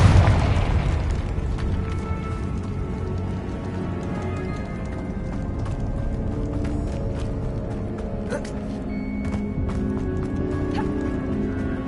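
A Confringo blasting spell explodes in the Hogwarts Legacy video game: a loud burst opens the moment, followed by a dense, rumbling game soundscape with scattered crackles and pops.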